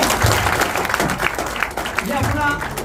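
Enthusiastic audience applause at a Hindi poetry gathering (kavi sammelan) celebrating the Hindu New Year, a dense, steady patter of many hands clapping that stays loud and even for a few seconds, with voices faintly mixed in.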